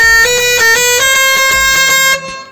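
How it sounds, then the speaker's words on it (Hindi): A loud Bajrang pressure horn on a vehicle blares a rapid run of shifting musical tones, then cuts off abruptly near the end. "गाड़ी में नया हॉर्न ऐड कर दिया है"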